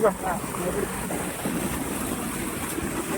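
Steady floodwater rushing through a sluice near Penumudi roars continuously, loud and close, with a windy broadband hiss and no clear voices.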